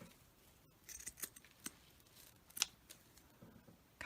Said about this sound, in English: Except I still want a little bit of this trim. I just like it. So I'm going to cut that off.